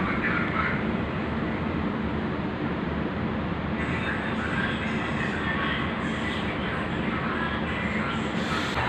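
The Cut Meutia passenger train rolls into a station, heard from inside as a steady, loud rumble of wheels and carriage noise with continuous broadband roar and no clear pauses.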